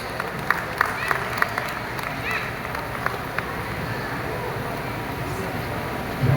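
A stage welcome for a guest at a Telugu community celebration in Riyadh draws sustained crowd applause that fills the room. A few sharper claps stand out early on, and a voice is heard near the end.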